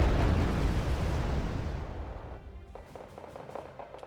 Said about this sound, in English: How are you, GR7 dropping in the bombs?